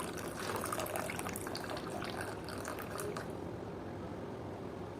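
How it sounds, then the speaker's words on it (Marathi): Steady splashing of a cup of hot water being poured into a bowl of upma premix, continuous for about three seconds before easing into quieter trickling. "याच्यामध्ये एक कप गरम पाणी टाकायचं आहे"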